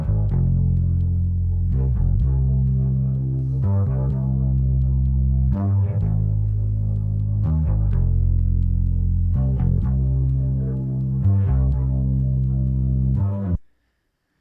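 Bass line isolated from a mix by Logic Pro's stem splitter, deep sustained notes with slides between them and a faint ticking like a metronome underneath, steady and fairly loud, cutting off abruptly near the end.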